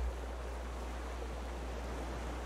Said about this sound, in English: The waves are strong, guys. The waves are strong.